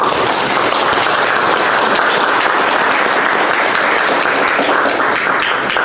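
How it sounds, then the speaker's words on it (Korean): A party meeting audience breaks into dense, steady applause, many hands clapping loudly and continuously for several seconds with no pause. "박수로."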